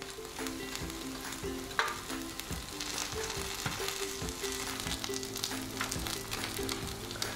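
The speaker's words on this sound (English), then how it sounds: "Keep rolling and cooking until it's nice and crispy all over." Takoyaki octopus balls sizzle steadily in an oiled pan as they are turned, with soft scraping and clicking of the rolling tool against the pan over continuous frying crackle.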